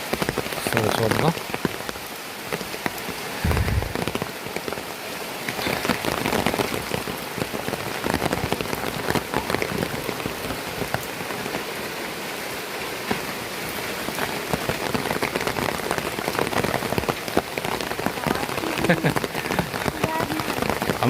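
Sudden heavy rain pours over a tribal village in the hills, a dense, steady hiss of drops drumming on surfaces close by for the whole stretch, with faint voices now and then underneath.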